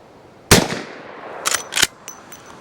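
Lever-action rifle shots in .357 or .44 Magnum are fired over a chronograph, one loud sharp report followed by two quicker cracks about a second later, each with a short ringing tail outdoors.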